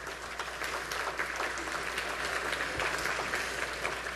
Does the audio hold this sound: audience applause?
yes